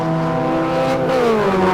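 Formula Vee open-wheel race cars howl loud and close into a turn, several engines layered with pitches dropping as they brake, a continuous dense roar throughout.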